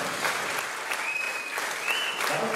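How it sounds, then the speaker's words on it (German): A hall audience at an evening entertainment show clapping steadily, a dense, even wash of applause throughout. "danke vielmals für den wunderbaren Applaus"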